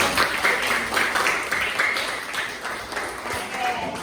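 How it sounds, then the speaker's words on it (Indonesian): A classroom group applauds at the end of a group presentation, with scattered mixed clapping and voices beneath it, moderately loud and steady throughout. "kalau cukup kita tepuk tangan, beri tepuk tangan yang meriah"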